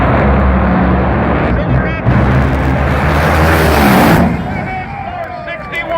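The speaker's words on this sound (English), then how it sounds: "First pair, first round, funny car at Wild Horse. Ready, set, go!" Loud roar of NHRA funny car engines launching in a drag race at Wild Horse Pass Motorsports, a dense, heavy blast that fills the clip and drops away near the end as the cars pull off down the strip.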